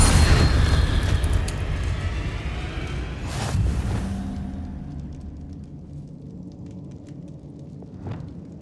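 Fiery spell explosions from the Hogwarts Legacy game, a loud booming blast at the start with a second burst near the middle, then a rumbling decay fading to quieter crackles.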